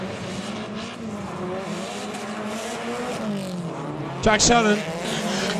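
Drift cars racing at Driftfest in Fermoy, engines droning loud and steady with rising revs and a brief sharp tire squeal near the end, under a commentator's announcing.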